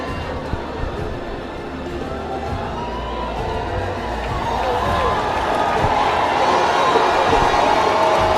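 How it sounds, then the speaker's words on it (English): Stadium crowd at a school football derby in Sri Lanka roaring as players walk onto the pitch, a dense continuous wash of cheering that swells louder toward the end. "And that roar that you're hearing from the crowd is the players finally making their way onto the pitch"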